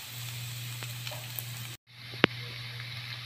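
Dried fish frying in a pan, a steady quiet sizzle with a low hum, broken by a brief gap and a single sharp clink.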